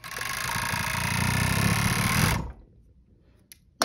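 A serger sewing machine runs fast and steady on an elastic spaghetti strap, a loud, close, continuous whirring that stops abruptly, followed by quiet and a couple of small clicks.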